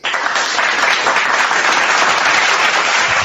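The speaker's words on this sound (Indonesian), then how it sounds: "Tepuk tangan." Loud, dense audience applause rolls continuously at a close, full level, with no voices over it.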